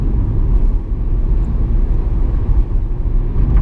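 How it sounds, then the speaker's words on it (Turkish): Steady road and wind roar inside a Dacia Sandero Stepway 0.9 TCe with automated gearbox cruising at 70 km/h, a continuous loud low rumble with no talking. "Yol sesi almaya başlıyor yol ve rüzgar sesi"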